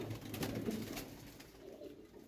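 Pet pigeons coo softly in a home loft, a low murmuring coo repeating through the short stretch with a faint hiss of background around it.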